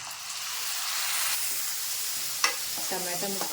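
Turmeric and tomato pieces frying in a pan for stuffed eggplant curry, a steady close sizzle with stirring and a few scraping clinks toward the end.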